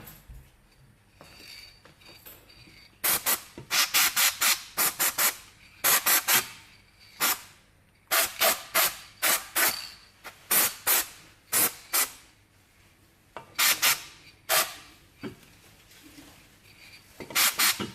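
Rust remover sprayed around the suspension bolt area of an Opel Astra during a control arm ball joint replacement, heard as repeated loud, close bursts of hissing spray in quick clusters separated by brief pauses.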